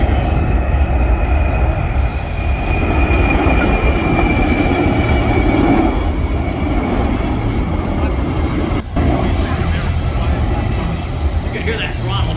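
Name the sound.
military jet aircraft flyby at air show, throttle up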